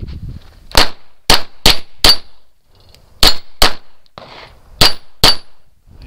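Gunshots ring steel targets at a steel shooting match, about nine sharp loud clangs with bright metallic ring-outs arriving in quick pairs and triplets, with quiet gaps between.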